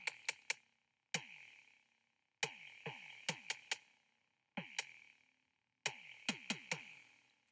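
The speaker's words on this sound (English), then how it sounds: "And then the bass drum and the 808 together" Bass drum hits layered with a deep 808 bass in a programmed beat: sharp kick transients, each trailing into a booming descending sub tone, in repeating bursts with short gaps between phrases.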